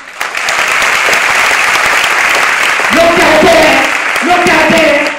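Dense audience applause fills the stage setting, a loud continuous wash of many hands clapping, with brief musical tones rising near the end.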